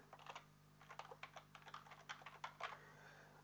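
Quick, light keystrokes on a computer keyboard, a short burst of soft clicks tapped out in uneven rhythm, close and quiet over a faint steady hum.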